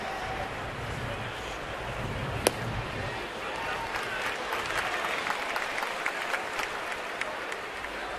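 A baseball stadium crowd roars and cheers after a highlight catch, a broad sustained wash of noise from start to finish with one sharp crack near the start.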